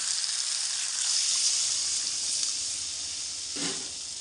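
Water is poured into a hot pan of frying rohu fish curry, raising a loud, steady steamy sizzle and hiss near at hand, with a brief bubbling surge near the end.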